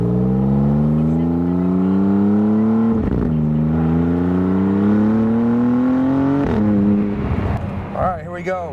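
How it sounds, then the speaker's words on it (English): A 620-horsepower Maserati MC20 sports car pulls away in sport mode on a cold day, its engine revving loudly and climbing in pitch through two gear changes before easing off. "Taking the Maserati MC20 out for a spin."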